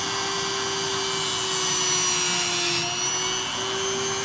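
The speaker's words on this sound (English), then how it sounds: "Here I have a bolt that I can grind on." A DEPSTECH rotary tool, a low-cost Dremel-style unit, grinds against a metal bolt, giving a steady high-pitched motor whine with a constant tone and a brief shift in pitch partway through, loud and continuous with no talking.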